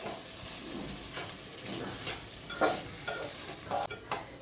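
Soaked rice being stirred and fried in a pan for keema pulao, a steady close sizzle broken by the scrape and clatter of a spoon turning the grains.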